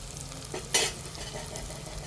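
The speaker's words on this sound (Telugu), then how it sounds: "అల్లం వెల్లుల్లి పేస్ట్ పచ్చివాసన పోయేంత వరకు ఇలాగా నూనెలోనే ఉడకబెడతాను" Ginger garlic paste frying in oil with softened tomatoes and onions, a steady close sizzle broken by one sharp scraping stir near the middle, with no talking.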